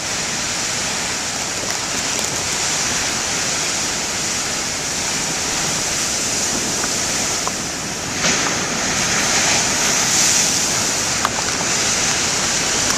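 Big ocean breakers crash and churn in a constant heavy wash of surf, loud and close, with slight surges in the roar and no voices.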